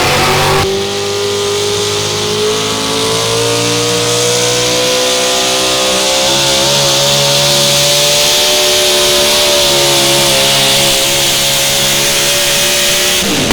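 A pulling tractor at a national truck and tractor pulling event screams at very high RPM, a loud sustained engine roar that climbs and holds for many seconds without speech.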